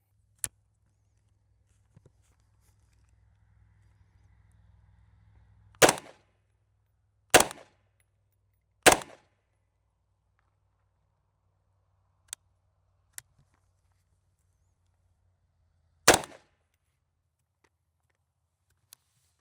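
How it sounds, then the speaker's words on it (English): IWI Tavor X95 bullpup rifle fired without a suppressor: four loud, sharp, close gunshots at irregular intervals, with a couple of fainter pops between them and quiet background otherwise. "we're gonna take a couple quick shots to get a feel of the gun"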